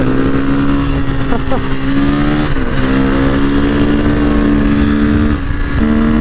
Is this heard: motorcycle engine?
yes